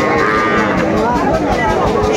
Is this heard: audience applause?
no